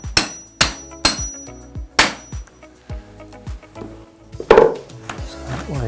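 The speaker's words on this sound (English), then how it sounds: "The third step will be to take a hammer and just gently knock this bolt through" A hammer knocking a bolt out of the rear wheel of a Vive transport wheelchair: a series of sharp metallic taps, about eight strikes in irregular rhythm, close and clear with ringing decay.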